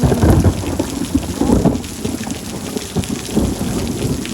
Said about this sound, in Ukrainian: Тож, пройшов у нас гарненький дощик